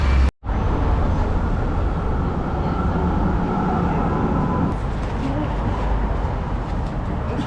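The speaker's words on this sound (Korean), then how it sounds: "일단은 또 트램을 타러 한번 가보겠습니다." Steady, loud rumble of a Melbourne tram in motion, a continuous broadband roar with faint high squeals near the end.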